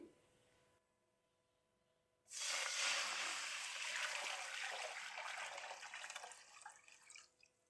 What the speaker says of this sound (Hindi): तो सबसे पहले हम बर्तन में यखनी डाल देंगे।